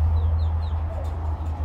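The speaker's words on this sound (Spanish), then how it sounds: "Un gallo que ha peleado 3 veces en la liga fuerte aquí en Miami." A fighting rooster that has fought three times in a strong league in Miami, making soft, intermittent clucks and chirps over a loud, steady low hum of background noise.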